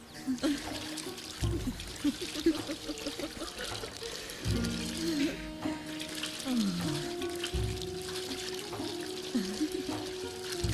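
Water pours in a steady, soft stream through a scene from an animated religious drama, running under voices and background music for most of its length.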